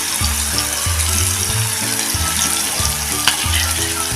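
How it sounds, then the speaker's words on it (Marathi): Chopped tomato sautéing in a pan for a toor dal and red pumpkin amti, with a steady close sizzle and a rhythmic scraping of the spatula repeating about every half second, no talking. "बघा टोमॅटो असा छान परतून घ्या"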